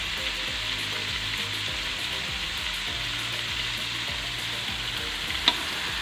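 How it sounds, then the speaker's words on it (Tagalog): Meat sautéing in a pan with fish sauce for palabok sauce, a continuous dense sizzle heard close up with a low rhythmic hum beneath and one brief clink near the end. "Maglalagay na nga rin po pala ako ng patis para masabay na sa pagsasangkot siya ng karne."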